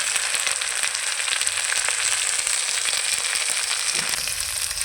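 Elephant foot yam and potatoes frying in hot oil give a steady, dense sizzle that crackles evenly throughout, close and fairly loud, with no voices.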